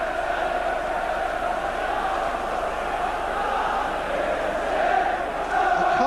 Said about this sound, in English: The crowd are absolutely tremendous, aren't they?